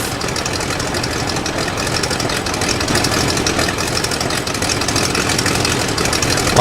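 A World War I aircraft engine in the flight sim Rise of Flight runs steadily after start-up, a dense, rough mechanical roar with a rattling knock that holds loud and close throughout, no voices over it.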